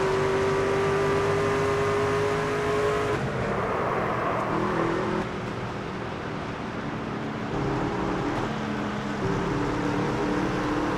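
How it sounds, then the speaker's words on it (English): A race truck in the NASCAR 25 video game holds a steady low engine growl at low RPM, with sustained harmonic tones and a shift in pitch partway through, loud and continuous with no talking. "I love the low growl of the truck there where our RPM was at a low rate"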